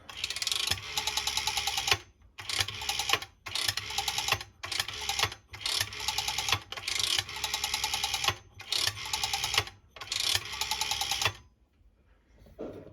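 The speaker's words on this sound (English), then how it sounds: "now I will dial a few numbers" A rotary telephone dial whirring back repeatedly: a run of buzzy mechanical bursts separated by short pauses, close up and with no voices.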